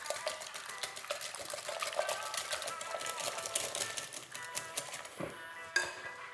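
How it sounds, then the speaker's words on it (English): A whisk beats an egg mixture with black pepper and chives in a bowl, giving rapid, continuous close clicking and tapping strokes that slow and stop near the end. "We're going to give that a whisk."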